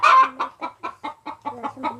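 A chicken clucks close by in a series of about ten short, evenly spaced clucks, with a slightly louder opening note and quiet farmyard background.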